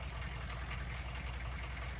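An old engine stored in a barn and kept in very good condition idles steadily after starting right up, a low continuous rumble with no talk over it.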